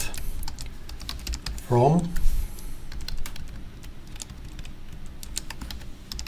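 Clicky keystrokes on a computer keyboard while an SQL query is typed into SQL Server 2022 Express, a steady run of quick close taps with one brief louder burst of sound near the middle.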